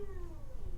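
Dog howling and crying for attention, a single long wavering cry with a falling pitch, fairly close and alone without speech.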